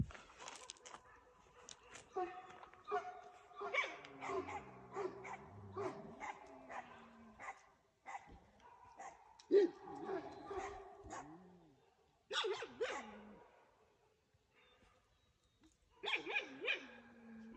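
A Kangal dog barks in a dark forest, a series of irregular, fairly close barks and yelps in bursts with pauses, mixed with people talking nearby.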